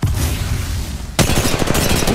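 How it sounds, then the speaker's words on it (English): Gunfire in the mobile battle royale game Apex Legends Mobile, a dense continuous rattle of rapid shots that sharpens into a brighter, crisper burst halfway through, with no voices. "Opening fire! Taking fire!"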